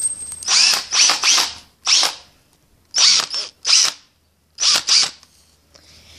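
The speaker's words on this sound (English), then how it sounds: "Now, you also want a drill." A handheld power drill runs in short repeated bursts, each a second or less with brief pauses between, loud and close with no talk over it, while building a wooden go-kart.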